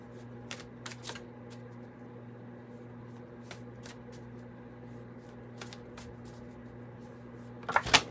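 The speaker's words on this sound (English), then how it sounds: "And I'm just shuffling." A tarot deck is shuffled close by and quietly, with soft riffling clicks now and then over a low steady hum, then a couple of louder card slaps near the end.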